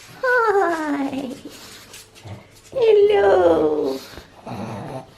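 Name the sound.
puppy whimpering and growling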